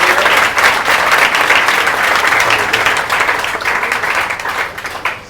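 A hall audience bursts into sustained, dense applause to welcome a student selected for a government job at the BSPHCL power utility, during a coaching-class ceremony. The clapping stays loud and steady throughout, then tapers slightly at the end.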